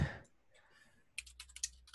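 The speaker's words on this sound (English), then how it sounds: "I was actually typing something" Quick, quiet clicks of typing on a computer keyboard come in a short, uneven burst of keystrokes near the end, after a faint thump and a near-silent stretch.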